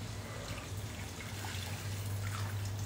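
Water poured into a pan of lightly sautéed sweet-sour mango chutney, a steady low wash and trickle running throughout with no voices over it.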